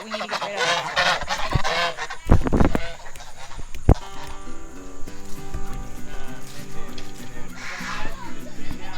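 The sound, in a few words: ducks honking and quacking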